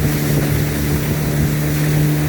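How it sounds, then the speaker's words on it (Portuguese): Motorboat engines on a river with rapids: a loud, steady, droning engine roar mixed with water and wind noise, continuous and close throughout. "Graças a Deus os motores são fortes, mas não podem falhar."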